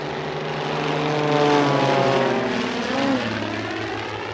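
Propeller aerobatic aircraft of the Grupa Akrobacyjna Żelazny team perform at a night airshow. Engines drone with a throbbing, pitch-shifting buzz that swells and fades twice as the planes pass at moderate distance.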